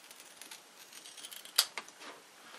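Someone cuts into a rubber RC car tire, making one quiet, sharp snip amid faint handling noises in a quiet room.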